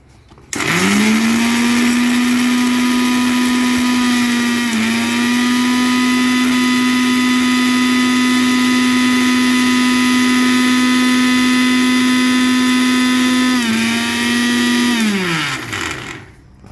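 Electric mixer grinder finely grinding dry sukka masala powder for a veg and non-veg spice mix: a loud, steady high-pitched whirring drone running about fifteen seconds, dipping briefly once mid-run before winding down to a stop.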